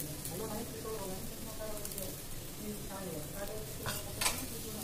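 Pitha sizzling in hot oil, a quiet steady frying hiss with stirring and a brief clink of a utensil near the end, while a voice talks over it.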